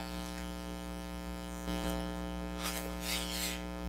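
A sewing machine top stitches a small bag with a steady electric motor whir and hum, brief rasping bursts of fabric feeding through near the end.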